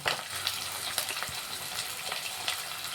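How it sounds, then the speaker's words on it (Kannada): Cut onions and whole spices fry in hot oil for a simple mushroom biryani, giving a steady hiss with scattered crackles and light stirring clinks, fairly quiet and close. "ಅದ್ರ ಜೊತೆಗೇ ಒಂದು 2 ಈರುಳ್ಳಿ ಕಟ್ ಮಾಡಿ ಇಟ್ಕೊಂಡಿದ್ದೆ, ಈರುಳ್ಳಿ ಹಾಕೋಣ."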